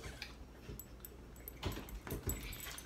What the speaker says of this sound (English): See, when you have a dog and you mention food, that's what happens.